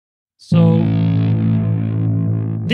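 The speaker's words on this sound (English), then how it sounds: "these kinds of sounds, the long drone sounds, I love with grit." A long sustained guitar drone played through an amp with gain added for gritty distortion, starting abruptly and holding loud and steady with a thick, harmonically rich tone for over two seconds, no talk.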